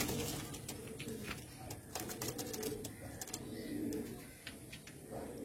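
Andhra Lambadi pigeons coo in repeated low rolling phrases at close range, with scattered clicks and faint background sounds.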